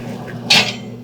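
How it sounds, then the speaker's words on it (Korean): A microwave oven door is opened once at the end of a cooking cycle with potatoes inside, a single sharp mid-loud latch clack and swing with a steady appliance hum running underneath. "지금 이제 전자레인지에 다 돌아갔기 때문에 이제 꺼내보도록 할게요"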